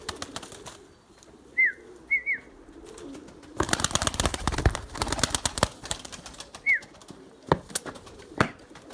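Purebred Erzurum White pigeons give a few short coos in a quiet loft, then a burst of loud wing flapping breaks out midway, with scattered coos and sharp flaps after it.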